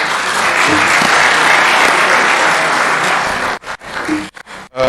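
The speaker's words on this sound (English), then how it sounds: "A big round of applause for Ahmed, please." Loud, dense audience applause at the opening ceremony of the 18th Africa Scout Conference 2022, sustained for several seconds before breaking up into a few final claps.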